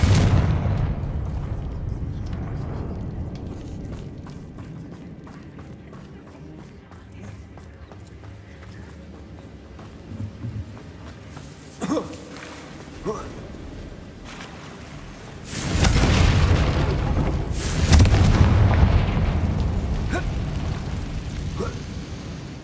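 Confringo fire spells explode in Hogwarts Legacy on Xbox Series X: a few short, sharp blasts, then a loud, roaring burst that rumbles on near the end.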